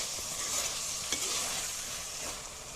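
Banana stem frying in a pan for an Assamese chicken dish gives a steady, close sizzle with soft stirring scrapes throughout, loud and even with no voices.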